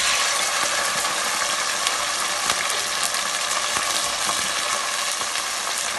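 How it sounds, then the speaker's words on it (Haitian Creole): Okra (kalalou) fries in hot oil for a Haitian rice-and-okra dish, giving a steady, loud, dense sizzle and crackle that holds evenly throughout, with faint clicks and stirring scrapes beneath and no voices. "Je mets un bon petit huile pour me capable frire, bien frire kalalou."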